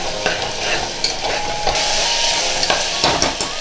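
Green masala paste sizzles and fries in a pan for a Gavran-style chicken curry, with steady close frying noise broken by repeated stirring scrapes and occasional clinks, no voices.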